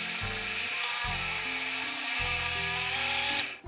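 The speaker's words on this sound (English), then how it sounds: "Once you've transferred the rice to a mixer or a grinder, we have to grind this rice to a fine powder." A mixer grinder grinds rice to a fine powder, its motor whirring loudly in several steady bursts with brief pauses between them before it cuts off at the end.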